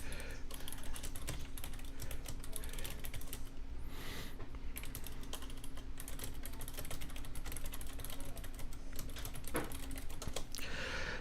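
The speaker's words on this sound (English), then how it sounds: "Hang on, I'm typing." Rapid, steady clicking of fingers typing on a computer keyboard, close and continuous with brief pauses, alone without talking.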